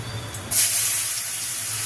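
Sliced bitter gourd dropped into hot oil in a pan, with a sudden loud hiss and sizzle that starts partway through and holds steady, close up, with no talking.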